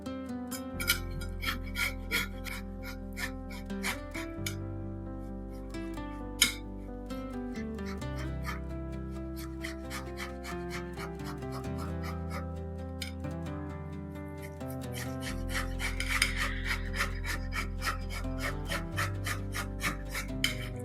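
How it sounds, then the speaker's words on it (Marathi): Boiled sweet potato rubbed against a hand grater for fasting-day cutlets, giving steady rasping strokes that sit under continuous background music with a deep bass line. "आता मी हे किसून घ्या"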